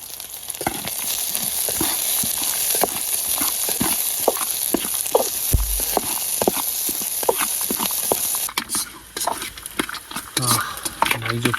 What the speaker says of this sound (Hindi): इस पर डाल देंगे पीनट और इसको हल्का सा फ्राई कर लेते हैं